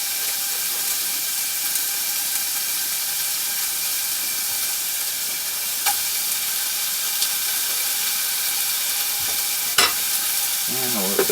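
Butter sizzling in a pan over a camp stove, a steady close hiss and crackle running throughout with a few brief clinks near the end.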